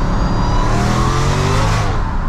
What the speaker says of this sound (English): Just tapping the throttle